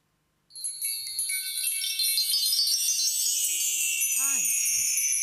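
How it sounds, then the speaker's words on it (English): A wireless Sound Beam switch triggers an electronic chime during a live performance in Singapore. A bright, shimmering high tone starts suddenly and swells into a sustained ringing wash. "So what you just heard is the first chime"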